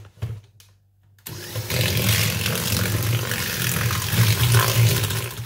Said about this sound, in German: In die cremige Butter geben wir dann die Zuckermischung hinzu und rühren weiter kräftig durch.